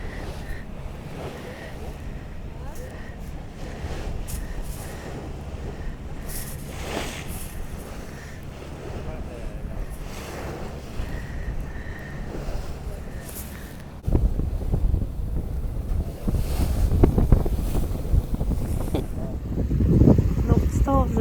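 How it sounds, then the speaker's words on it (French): Boat running through choppy sea waves in the Mingan Archipelago, with steady wind noise and water rushing throughout, growing louder and rougher in the second half; people talk over it. "On est sur le chemin, sur la vague du retour. Et là, il y a de la vague."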